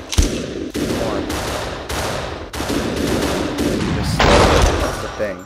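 Gunfire in a first-person shooter game, loud sustained bursts of rapid shots broken by brief gaps, with a voice talking over it.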